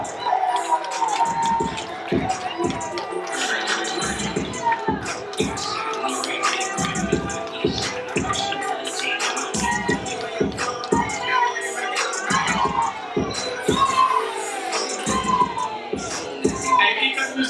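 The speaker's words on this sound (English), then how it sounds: "give a loud round of applause for my guy Hugh Chambers" A live crowd cheers, whoops and claps for Hugh Chambers, a loud, busy mix of shouts and clapping with sharp bursts throughout and voices calling out within the noise.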